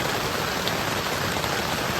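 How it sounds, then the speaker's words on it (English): Steady rain patters on a camping tent during a thunderstorm, a dense, even hiss that fills the whole stretch with no voices over it. "we're in the tent now because it's lightning, thundering, and raining outside"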